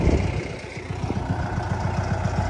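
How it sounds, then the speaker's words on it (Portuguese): A truck approaches on a rural road in the late afternoon, its engine a steady low rumble with a pulsing throb, moderately loud and continuous throughout with no voices. "Vem um caminhão. O Romertão tá vindo ali"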